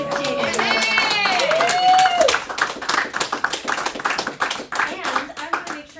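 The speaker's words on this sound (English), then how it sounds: "give her another round of applause" An audience claps for a female performer at a Friday night concert, steady close clapping lasting the whole stretch while a voice speaks over it early on.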